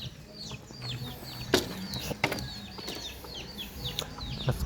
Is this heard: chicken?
yes